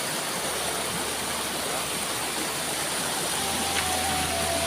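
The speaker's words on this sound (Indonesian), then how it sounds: "Dan ini sungainya, airnya sangat deras sekali." Fast, heavy river water rushes steadily and close by beneath a bamboo footbridge in a village, a dense unbroken roar with no voices.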